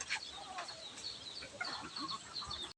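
Chickens cluck steadily around a provincial yard after feeding, several birds overlapping in close, busy chatter with faint background noise, ending abruptly.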